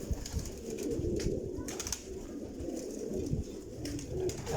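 Several pigeons in an older loft coo in overlapping low throaty phrases, close by and fairly steady, with some fluttering and shuffling noises scattered through.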